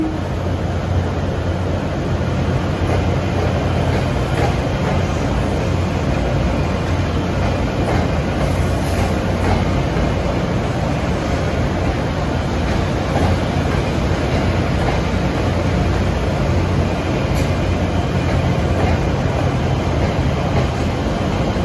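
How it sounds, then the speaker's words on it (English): A New Jersey Transit train bound for Bay Street, Montclair rumbles past Hoboken Terminal at steady volume, a continuous low roar with faint rhythmic clatter of wheels throughout, no voices. "There goes a train bound for Bay Street"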